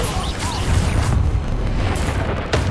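A Bombarda blasting spell goes off in Hogwarts Legacy with heavy booming bursts, thick with low rumble and crackling debris, under continuous loud battle noise and no clear pause.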